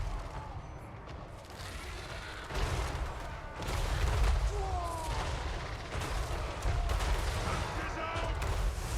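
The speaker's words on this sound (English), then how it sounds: "Those cannons are still firing." Cannons fire repeatedly during a Tomb Kings versus Dwarfs battle in Total War: Warhammer, a dense rumble of booms and crashes under continuous battle noise, with talk layered over the din.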